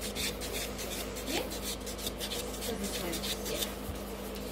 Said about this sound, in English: So I'm just going to buff quickly this nail.